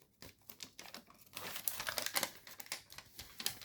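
Paper being creased and pressed into a petal fold while shaping an origami jet, giving close, dry crinkling and rustling in irregular bursts that thicken toward the middle, with no talking.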